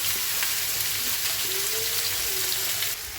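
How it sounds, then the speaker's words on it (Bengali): Onions fry in hot oil with cumin, nigella seeds and bay leaf, producing a loud, constant sizzle close by that carries on evenly throughout. "তেল গরম হয়ে গেছে দিয়ে দিয়েছি সাদা জিরে কালো জিরে ফোড়ন তেজপাতা পুরো পেঁয়াজটা দিয়ে দেবো"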